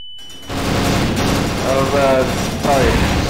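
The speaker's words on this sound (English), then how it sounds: "Part of my fireworks show." Rapid bursts of gunfire and explosions fill a match in the Neotokyo video game, loud and sustained, while a player speaks over the din.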